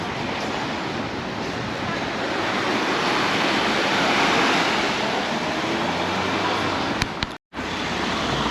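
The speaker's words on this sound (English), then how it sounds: "I love to see the sea so rough and listen to the sound of those waves" Rough sea waves break continuously on the shore at Portals Nous, Mallorca, a loud, steady roar of surf with wind across the microphone, cut by a brief dropout near the end.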